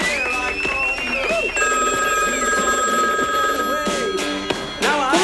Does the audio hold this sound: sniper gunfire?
no